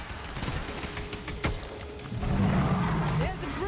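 Gunfire in the video game The Anacrusis: scattered shots and bursts over a dense game soundscape with rumbling effects and voices, one sharp report standing out midway, the whole mix busy and loud.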